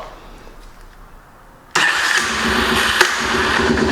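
A 2004 Yamaha TT-R 250 carbureted dirt bike fires up after a quiet lead-in. It catches abruptly and settles into a loud, close, steady running note with one brief blip.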